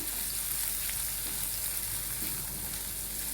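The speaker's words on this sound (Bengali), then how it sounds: "সবগুলো দিয়ে একটু নেড়ে চেড়ে নিতে হবে এভাবে" Chopped onion and garlic frying in a pan while being stirred, a steady close hiss and sizzle with soft scraping, no talk.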